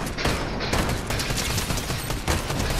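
Steady, continuous rattle of gunfire in a video game, rapid overlapping shots filling the whole moment at a fairly constant loudness.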